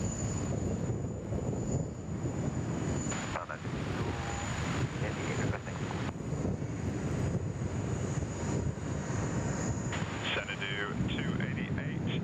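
A China Southern airliner takes off at Sydney Airport, a broad, steady engine roar mixed with wind noise, while air traffic control radio chatter cuts in near the end.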